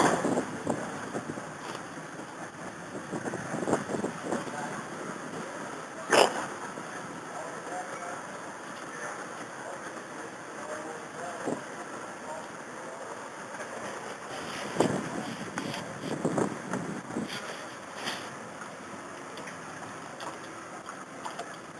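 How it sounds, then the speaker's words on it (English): Wind gusts across open water around a boat at the start of a fishing tournament, a low, steady rushing with buffeting on the microphone, with faint voices in the background. "It's windy out here today."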